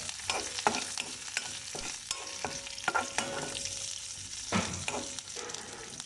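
Ingredients for thosai being fried and stirred in a pan, a quiet continuous sizzle with irregular scraping and tapping strokes from a spoon, no voices.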